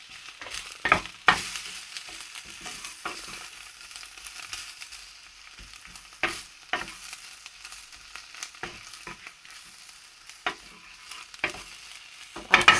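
Tofu stirred and coated in a frying pan with a smoky seasoning, a low steady sizzle broken by scattered scraping and stirring knocks, close and without talk.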